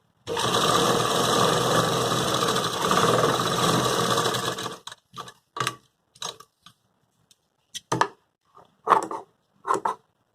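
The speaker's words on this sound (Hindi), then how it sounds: "चलिए पहले सिलाई कर लेते हैं। ये जो हमारी सिलाई होगी ये पक्की सिलाई होगी।" A sewing machine stitching a suit runs in one continuous, close mechanical whir for about five seconds. It then falls to short, separate bursts of stitching with quiet gaps between them, and no talk.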